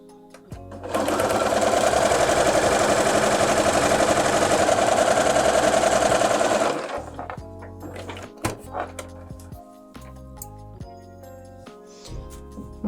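A sewing machine runs steadily, stitching green fabric pieces onto red for patchwork Christmas ornaments. One loud continuous run lasts several seconds and then stops, followed by quieter clicks and handling noises.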